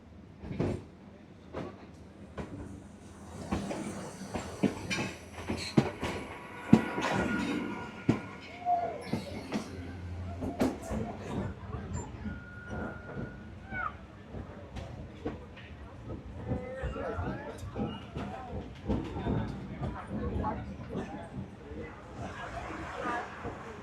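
Local passenger train running through Kakdwip toward Namkhana, with rattling wheels, clunks and knocks from the carriage, heard from on board under ongoing talk nearby.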